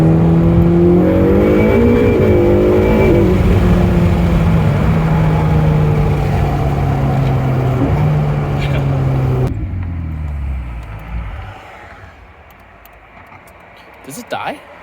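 Ferrari 488 Pista exhaust accelerating hard through gear shifts, loud rising engine tone with sharp shift breaks, then dropping to quiet idle and silence near the end.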